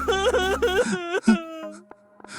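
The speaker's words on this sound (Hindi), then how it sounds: "गुफा के अंदर से किसी औरत के रोने की आवाज आने लगी" A woman's wailing cry echoing from inside a cave in a Hindi horror cartoon, drawn-out whimpering moans that rise and fall, then trail into faint sustained tones.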